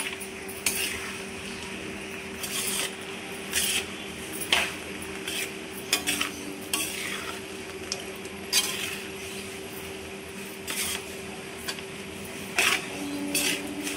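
Sabudana khichdi being mixed in a pan, with a spoon scraping and clinking against the metal in irregular bursts over a steady low background hum.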